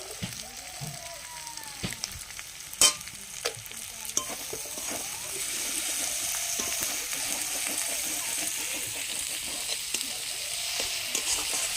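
Prawns frying in oil in a home kitchen in the Sundarbans, a steady close sizzle with occasional stirring clatter, a few sharp pops and spatters along the way, no voices.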